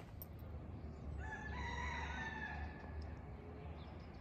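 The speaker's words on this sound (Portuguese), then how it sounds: "Estão ouvindo o galo, o boi? Essa é a manhã aqui na Ilha de Gozo." A rooster crows one drawn-out call on a morning on Gozo island, Malta. It sounds fairly distant over a low outdoor rumble, with no talking.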